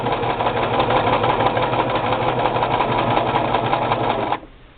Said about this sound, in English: the Brother LX3014 machine stitching braided rugs